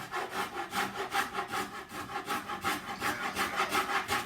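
A hand rasp files the wood of a Goffriller-style baroque cello in steady rhythmic strokes, roughly two per second, close and scratchy with no talk.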